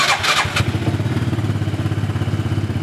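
A Hisun engine fitted with a performance ECU cranks and fires up after a few clattery starter bursts, then settles into a rapid, even idle chug close by.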